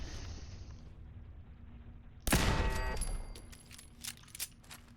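Gunfire aimed at turrets in the video game Fallout 4: a sudden loud blast followed by a ringing tail and a few more scattered sharp shots, with no voices.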